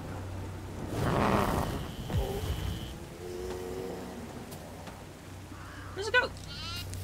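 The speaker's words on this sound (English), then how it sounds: "There's a goat." Goats on a farm bleat in short wavering calls, one near and clear late in the clip, amid outdoor background noise and people talking.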